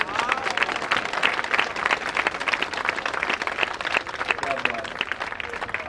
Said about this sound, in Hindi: छोरे के लिए जोरदार ताली बजाओ भाई